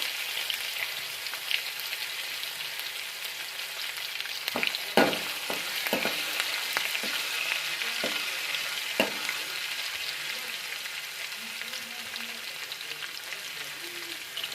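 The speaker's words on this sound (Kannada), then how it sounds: "ಹಾಗೆ ಅದಕ್ಕೆ ಬೆಳ್ಳುಳ್ಳಿ ಹಸಿ ಶುಂಠಿ ಹಾಕ್ಕೊಂಡು ಅದು ಸ್ವಲ್ಪ ಫ್ರೈ ಆಗಬೇಕು" Garlic and fresh ginger frying in hot oil for a simple toor dal, a steady bright sizzle with a cluster of sharp spoon taps and stirs in the middle, then continuous sizzling.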